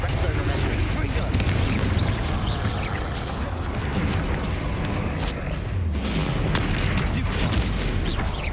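Confringo, the fiery explosion spell in the game Hogwarts Legacy, goes off in a dense barrage of loud booms and crackling blasts over constant heavy combat noise.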